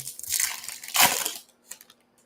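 Trading cards being shuffled and handled during a live graded-card reveal and box break, a burst of dry crinkly rustling with a louder flurry at the midpoint, then a few faint scattered clicks near silence.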